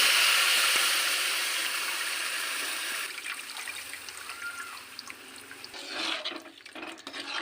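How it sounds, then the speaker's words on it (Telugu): Tamarind broth poured into a pan for an egg curry, a rushing liquid pour that gradually tapers into trickling and dripping, followed by faint sloshing and small clinks nearby. "ఇక పులుసు పోస్తున్నా."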